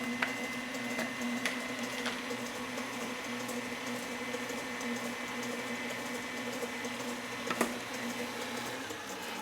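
A kitchen blender whirs steadily, mixing half a cup of oil into sugar for glazed lemon zucchini bread batter, with a few sharp clicks and knocks over the continuous motor drone.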